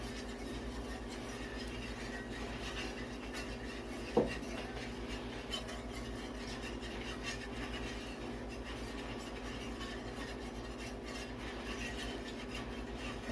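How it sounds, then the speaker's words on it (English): A whisk scraping and stirring flour into oil in a pan, a steady, quiet rasping texture that goes on without pause and with no talking. "I'm going to whisk that around for 2 or 3 minutes"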